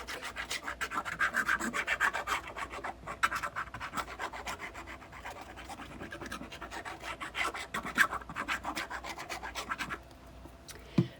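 Glue is spread across the back of a jumbo album cover, a steady close scratchy rubbing with short repeated strokes that runs nearly continuously, with no talking.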